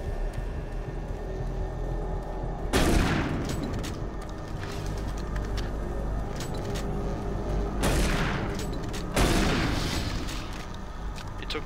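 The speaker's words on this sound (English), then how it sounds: "It took two shots to remove that barrel from existence." Shotgun blasts in the video game Doom 3, fired at an explosive barrel: two loud, booming bursts roughly five seconds apart, each with a long rumbling tail, over steady game noise.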